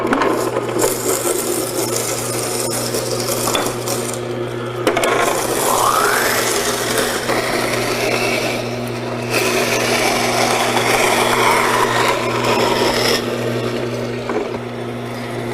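A Green Star juicer runs continuously with a steady motor hum and low drone, overlaid by grinding, rasping crunches as fruit is pressed through, loud and close with shifting scraping bursts throughout.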